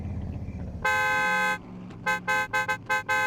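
A car horn in the survival video game SCUM blares in one long blast, then a run of short rhythmic honks, loud and close over a low engine rumble.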